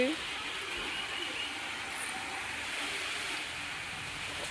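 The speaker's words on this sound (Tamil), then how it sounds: "கைஸ் மழை வருது." Rain begins falling outdoors near a home around festival time, a steady soft hiss spread evenly across the air, fairly quiet and continuous, with faint voices underneath.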